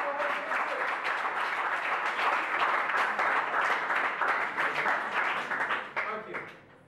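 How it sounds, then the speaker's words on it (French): A studio audience claps loudly for a male final-year student contestant being called up at a televised school competition, with dense, steady applause that holds throughout and fades at the very end. "On applaudit très très très fort"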